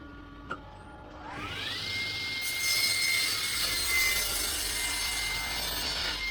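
Reclaimed building-site wood is run through a powered saw to cut table legs to length: a sharp knock, then the blade whines up to speed and bites into the timber with a loud, steady rasping roar.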